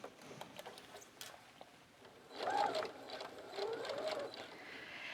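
A home sewing machine stitches a gusset seam in short quiet runs, a faint whirring that picks up and stops, heard close in a calm room.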